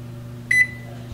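A kitchen oven timer gives a single short electronic beep as it is set, clear and close over a steady low appliance hum.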